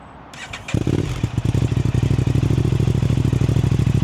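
An Aprilia RS660 with a Pipewerx exhaust and the dB killer removed cranks and fires, then settles into a loud, close, steady lumpy idle with fast regular pulses.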